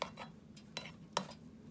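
A spoon stirs creamy porridge in a pot with a few soft scrapes and clinks near the start and middle, over a faint steady hum with no talking.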